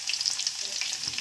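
Crushed garlic and ginger frying in hot oil, a continuous bright crackling sizzle with small popping bursts, close and steady with no voices.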